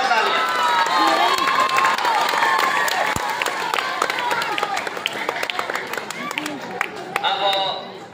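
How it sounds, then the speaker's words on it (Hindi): Loud, sustained applause and cheering from an audience at a school results and prize-giving ceremony, filling the whole stretch with dense clapping and crowd noise, a brief sharp knock partway through and voices mixed in. "जोरदार तालियां।"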